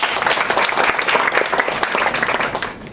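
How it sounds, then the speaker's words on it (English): An audience claps after a musical show, a dense, continuous burst of applause from a sizable crowd that holds steady and then tapers slightly at the end. "Let's give everyone another round of applause."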